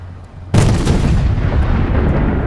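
A tank cannon fires in Fortnite: a single loud, close blast that hits suddenly, then a long rumbling tail that fades out slowly. No talking is heard.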